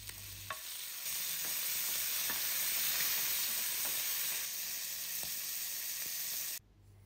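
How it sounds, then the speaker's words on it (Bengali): Salted, turmeric-coated shrimp frying in a pan, a steady loud sizzle with faint stirring clicks throughout, cutting off abruptly near the end. "চিংড়ি মাছ ভেজে নিচ্ছি।"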